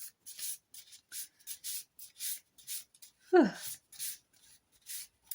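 Playing cards are shuffled in short repeated riffling bursts, soft and close, with a brief voice partway through.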